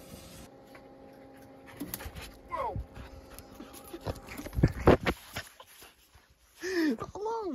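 A dog pants in short, uneven bursts near a Jeep XJ on a trip through Capitol Reef National Park, with some louder breathy gusts and a few whiny sounds, as people talk now and then.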